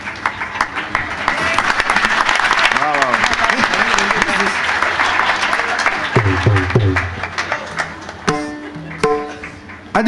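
Festival audience at a bhajan concert applauds the musicians, a loud sustained round of clapping filling the hall, with a voice speaking over it and the clapping thinning toward the end.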